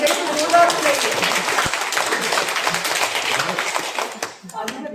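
Participants at a village-level Jal Shakti Mission community training clap loudly and rapidly for several seconds, close by, with voices talking through it before it thins out.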